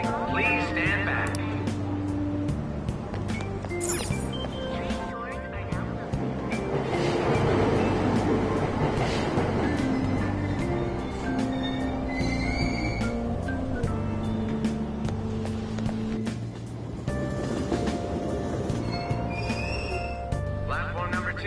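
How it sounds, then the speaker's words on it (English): Train departing a Tokyo subway station in the game Persona 5 Royal, with steady rumbling rail noise and platform ambience running throughout under announcement-style speech. "Train doors are now closing. Please stand back."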